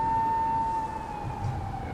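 A police siren on an Osaka street at night holds a steady tone that wavers slightly over constant traffic rumble, moderately loud and close.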